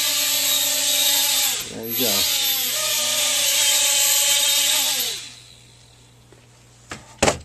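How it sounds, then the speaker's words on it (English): A Hubsan X4 quadcopter's tiny motors whine up under throttle, a high buzzing drone that dips and rises for about five seconds before cutting out, followed by a couple of faint clicks and handling knocks nearby. "Give it a little bit of throttle, test it out."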